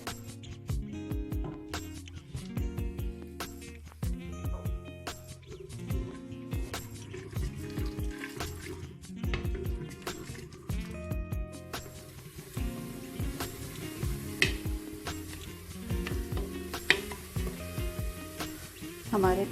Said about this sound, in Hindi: तेल हमारा गर्म हो चुका है। अब हम इसमें प्याज डाल देंगे।